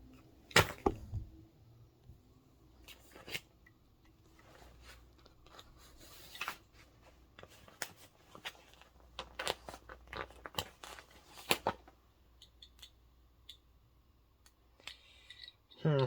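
A blade cutting a USB-C headphone connector, several sharp close snips and crunches spaced out among quieter handling noise, with some talk in between.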